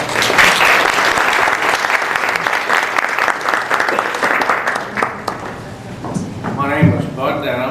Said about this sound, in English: So let's give a round of applause for Buddy Denham.